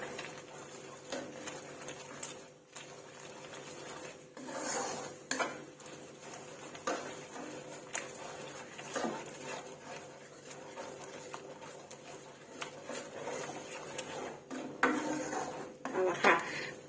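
Thai red curry paste stirred with coconut milk in a pan over low heat for chicken and coconut shoot curry, repeated metallic scrapes and taps of a spoon against the pan over a low bubbling simmer, close up.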